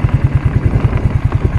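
A 1992 Suzuki motorcycle engine runs steadily just after a cold start, a loud, close, rhythmic low-pitched chug with a rattling mechanical clatter and no talking.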